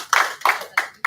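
Four separate sharp hand claps ring out close by in a quick, slightly uneven rhythm, given for a regional leadership team at an alumni gathering.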